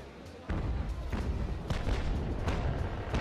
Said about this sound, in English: Here comes a volley.